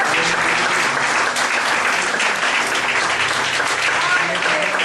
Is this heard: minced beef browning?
no